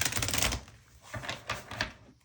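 Oracle cards being pulled from a deck, soft papery riffles and slides in a few short bursts, close up and fairly quiet, with no talking.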